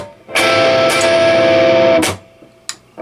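A distorted electric guitar chord is strummed and held for a couple of seconds, then cut off, followed by a few quiet muted scratches from the strumming pattern.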